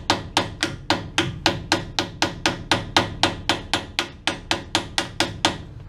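Sharp metal hammer blows drive a rear axle bearing onto a vehicle axle, about twenty evenly spaced ringing strikes in a steady rapid rhythm, close and loud, with no talking.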